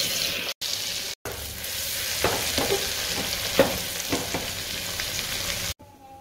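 Garlic paste with panch phoron sizzling in hot oil, a steady close crackle with occasional scraping stirs, cut by two brief dropouts and ending abruptly.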